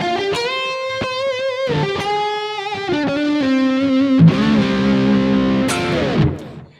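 An electric guitar on its split-coil pickup position gives a bright, twangy, Telecaster-like tone, playing a lively run of picked notes and then ringing chords that fade out at the end.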